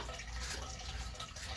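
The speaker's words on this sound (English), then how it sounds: "I'm just going to go ahead and pre-dunk my brush, get some water on there" A paintbrush dunked and swished in a water container, a steady close splashing wash with no talk.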